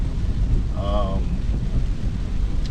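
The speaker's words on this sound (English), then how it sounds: "we are in rainy, dark conditions" Rain drums on a Tesla driving through dark, rainy conditions, making a steady wash of noise. A brief tonal sound rises over it near the start.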